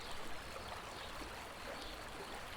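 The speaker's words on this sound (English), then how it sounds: "Let the distant sound of the river Saraswati carry you." The Saraswati river flows far off as a steady, even wash of water, soft and unbroken, with no voices over it.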